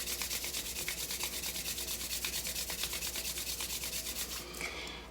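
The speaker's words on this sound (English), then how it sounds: "let's begin by rubbing the hands together" Palms briskly rubbed together to build warmth, a steady, close, rhythmic dry swishing that continues evenly for several seconds before easing off at the end.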